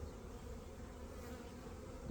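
Honey bees in a beekeeper's hive boxes, checked at the start of the season, give off a dense, steady buzz of many insects close by. The hum is continuous and even, with no voices.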